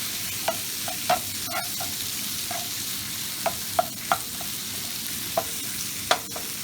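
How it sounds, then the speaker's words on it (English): Sausages sizzling in a pan with a squeeze of lemon juice, a steady close crackle broken by repeated sharp clinks and scrapes as the pan is tossed and stirred, no talk. "give it a quick toss"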